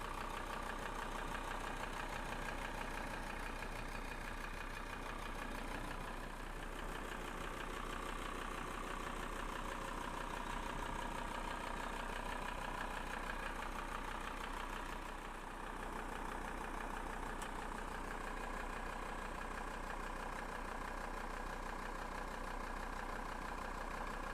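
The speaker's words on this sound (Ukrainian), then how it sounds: "Слухайте роботу двигуна." A van's diesel engine idles steadily throughout, a continuous low rumbling drone with a faint knocking texture and no speech.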